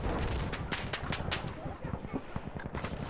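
Rapid bursts of automatic gunfire from the video game Insurgency: Sandstorm, close and loud, firing in quick repeated volleys throughout with brief gaps between them.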